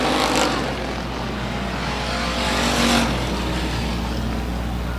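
Race cars roar around a speedway oval during a heat race, a steady loud engine drone with a louder surge of passing cars near the three-second mark.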